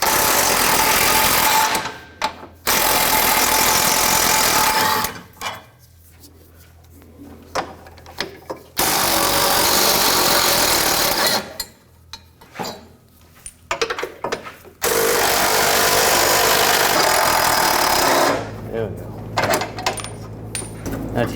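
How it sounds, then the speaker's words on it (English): Strap bolts come out with a 15mm socket on a power tool under a GMC Acadia, sounding as three loud, close, sustained whirring bursts of several seconds each, separated by quieter gaps with faint handling noises. "Now we're going to start removing these bolts. There's 3 of them for the straps. Use a 15mm socket."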